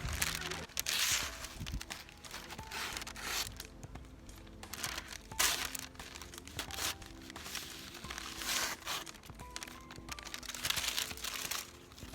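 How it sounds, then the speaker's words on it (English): Custom camp and chopper knife slicing through paper in a paper test, giving a series of close, dry rasping and crinkling cuts at an irregular pace. "we're gonna go ahead and paper test this"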